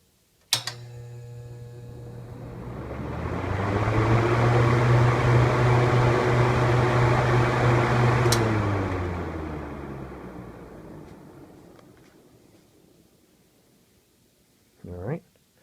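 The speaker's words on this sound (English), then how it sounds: "here's the startup sound. I'm going to start up on high or full speed" Electric fan starting up on high, full speed: a click, then a whirring hum that builds in pitch and loudness as the blades spin up, holds steady, then winds down and fades, ending with a clunk.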